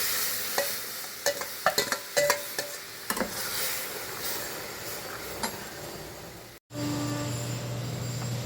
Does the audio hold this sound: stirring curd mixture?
yes